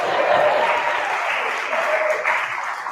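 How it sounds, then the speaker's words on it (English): A choir applauds at the close of a Christmas rehearsal, steady clapping from a group of singers that runs throughout, close and fairly loud, with faint voices mixed in. "Give yourself a round of applause."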